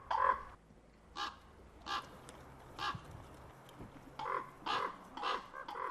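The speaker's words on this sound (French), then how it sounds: "Dans les groupes de jeunes corbeaux, où ils vivent avant de s'unir à un partenaire et de posséder un territoire, la communication est permanente." A group of young crows caws repeatedly at a moderate distance, with about eight hoarse calls spaced irregularly over a few seconds against a faint background.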